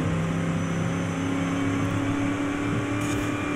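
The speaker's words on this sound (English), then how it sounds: "1970 Chevelle Supersport. She got a 454 under the hood" A 1970 Chevelle Super Sport with a 454 V8 in the racing game Forza Horizon 5, a loud continuous engine drone holding steady at high revs, heard alone without voices.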